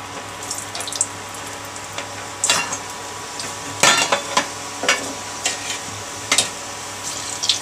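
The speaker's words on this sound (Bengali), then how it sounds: "এরকম করে আমি সবগুলো কচুরি এখন ভেজে নেব" Pea kachuri frying in hot oil, a steady bubbling sizzle with repeated sharp splashing crackles as pieces are turned or added, close and fairly loud, no talk.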